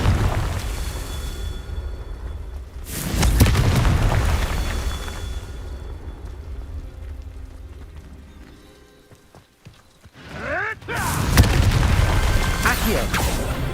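A Confringo fire spell in Hogwarts Legacy goes off as a loud, broad burst near the three-second mark. A second heavy blast follows around eleven seconds, with rumbling game ambience in between and no talk.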